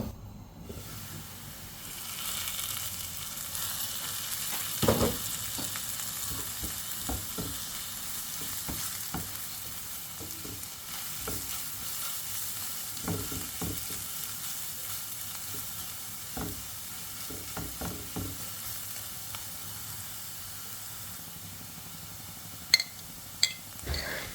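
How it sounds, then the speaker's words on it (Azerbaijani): Carrot and onion frying in a pan for a fish dish, a steady soft sizzle and hiss that runs throughout with occasional stirring clicks and light taps, heard alone at moderate level. "Köklə soğan biraz qovrulduqdan sonra"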